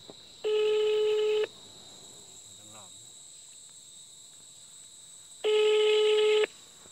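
A phone call rings out with two long ringback tones, about a second each and four seconds apart, clear and steady over a quiet background with a faint low murmur between them.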